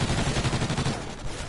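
Automatic gunfire in the video game Call of Duty Extinction, a quick burst of rapid shots, loud and close, filling a short moment.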